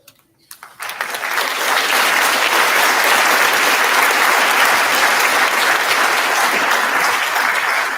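A room full of people at a Rotary awards ceremony breaks into applause for the award recipients, starting with a few scattered claps and quickly swelling into loud, sustained clapping that holds steady to the end.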